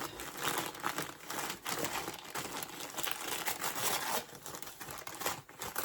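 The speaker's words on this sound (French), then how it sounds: "Voilà, comme ça je trie les papiers" Continuous close paper crinkling and crumpling during a reborn doll unboxing, busy rustling with no pauses, like wrappers being scrunched and sorted by hand.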